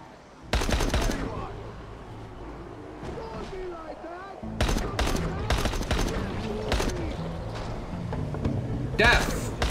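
Gunshots in Dying Light come in loud, dense rapid bursts, one early and another starting midway and running to the end, with someone talking over and between the shots.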